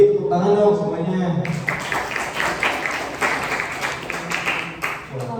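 Audience applause breaks out at a public speaking seminar after a host's spoken request, a dense round of many hands clapping that carries on for several seconds, steady and fairly loud.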